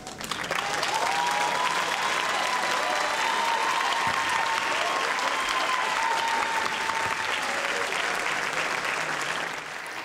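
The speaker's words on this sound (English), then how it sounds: "any veterans or anyone serving in the military to please stand so we could also applaud you" Sustained applause from the audience at a nursing candle-lighting ceremony as veterans and serving military members stand, even and continuous clapping with faint tones layered over it, fading slightly at the end.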